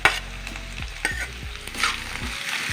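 Long-cut carrots sauté in a hot pan, giving a steady soft sizzle with periodic scraping strokes as they are stirred, close and alone without talk.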